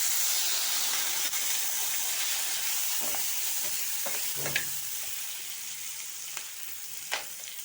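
Vegetables tossed in a pan for hotel-style chicken chilli sizzle steadily after a splash of vinegar, a loud continuous frying hiss with a few brief clinks and stirring scrapes on top.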